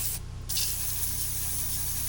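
Spray blasting into the fuel pickup of a Nailhead-powered rail dragster, a steady close hiss lasting about two seconds after a brief start.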